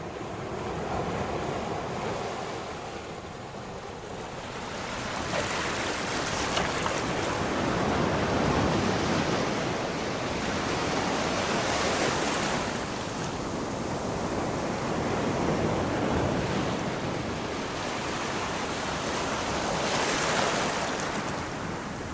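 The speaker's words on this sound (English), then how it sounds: "See the size of the swell, how it's sucking back there and coming over." Ocean swell surges and sucks back at the beach near Paul's Point and Little Bay, a loud, broad wash of surf rising and falling in slow waves with wind buffeting the microphone.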